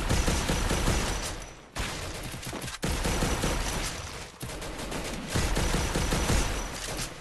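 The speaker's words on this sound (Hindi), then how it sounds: "भाई ये शॉटगन है मशीन गन है।" Rapid shotgun blasts and sustained machine-gun bursts from the Free Fire battle royale video game, loud and continuous with brief pauses between volleys.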